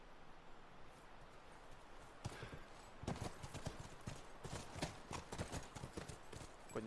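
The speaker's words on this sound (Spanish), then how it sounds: "Vamos, volvamos a los caballos." Horse hooves clip-clopping in the video game The Last of Us, a quiet patter that grows into a louder, rapid rhythmic clatter of several hoofbeats.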